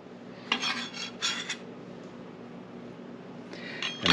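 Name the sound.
diced celery put into a bowl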